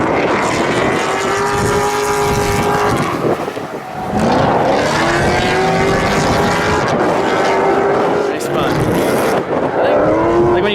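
A 2015 Ford Mustang EcoBoost with an automatic transmission drifts on a track at a drift event, its engine roaring and pitching up and down continuously with loud, sweeping revs close by, plus tire noise throughout.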